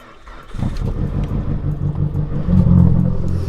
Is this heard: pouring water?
no